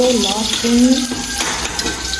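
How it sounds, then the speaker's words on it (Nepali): Garlic frying in hot oil for mustard greens, a loud, steady sizzle with stirring scrapes and clinks of a utensil in the pan, close up with no talking. "रायोको सागमा चाहिँ लसुन पड्काइदिनु पर्यो अलिकति"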